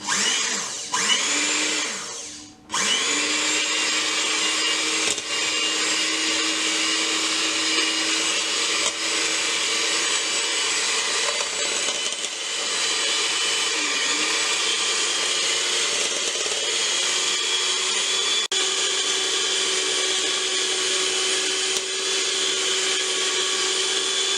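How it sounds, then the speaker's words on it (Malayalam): An electric beater whipping eggs and sugar for an almond cake batter: a loud, steady whirring motor close by that cuts out briefly near the start, then runs on continuously with a sustained hum. "ഇതുപോലെ ഒരു ബീറ്റർ എടുത്തിട്ട് നമുക്ക് നന്നായിട്ട് മിക്സ് ചെയ്തെടുക്കാം."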